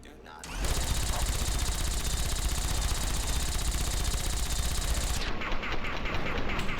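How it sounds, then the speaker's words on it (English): A Gatling laser firing in Fallout: New Vegas, an unbroken, dense rattling burst that starts abruptly and holds at full loudness for about four and a half seconds before cutting off. "I love the Gatling laser, it's so cool."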